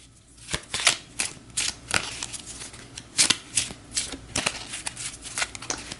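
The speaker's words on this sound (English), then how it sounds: "Give this a shuffle." A deck of playing cards being shuffled for a tabletop boxing game, a series of sharp riffling bursts and quick flutters repeating close by with no talk.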